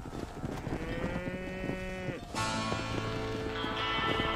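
Cattle lowing in the Red Dead Redemption video game during a herding ride, several long drawn-out moos one after another, fairly close, over a soft background of game ambience.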